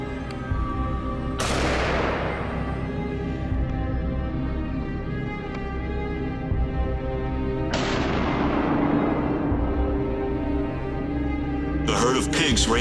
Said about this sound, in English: Continuous gunshots rang out from our teammates.